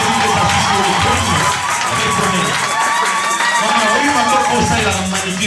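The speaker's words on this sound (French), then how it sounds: "On acclame très fortement le Seigneur de gloire." A church congregation cheers and acclaims loudly during worship, a dense continuous crowd roar with shouts and whoops rising and falling throughout.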